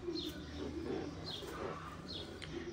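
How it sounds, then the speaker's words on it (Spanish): A medium-sized racing pigeon coos softly in a loft, low repeated coos with faint chirps above steady background noise and no talking. "Está muy bella esa paloma."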